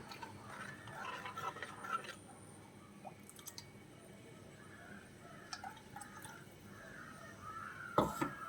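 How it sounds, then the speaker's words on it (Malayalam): Faint liquid sounds, soft dripping and squishy splashes, as water is poured into a simmering fish curry, with a brief sharper splash near the end. "ഇനി നമുക്ക് ആവശ്യത്തിനുള്ള വെള്ളം ചേർത്ത് കൊടുക്കാം."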